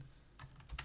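A few sharp computer keyboard keystrokes tapped close up in a quiet room, three or four quick clicks in a short burst.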